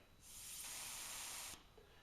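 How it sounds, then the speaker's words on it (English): A pottery glaze sprayer lets out one steady, loud hiss of spray lasting just over a second, starting and stopping sharply, with no talking over it. "now we're ready to spray."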